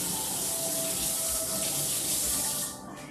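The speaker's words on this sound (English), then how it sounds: "I have hot water and I run it over the back of the cookie scoop" Hot tap water runs steadily from a kitchen faucet over the back of a metal cookie scoop, a continuous close splashing hiss that fades slightly at the very end.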